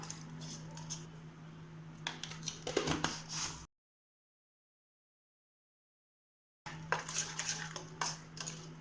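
Utensils clink and scrape against a vessel while a salted curd mixture for mango perukku is stirred, with a steady low hum behind; the sound cuts out for a few seconds, then resumes.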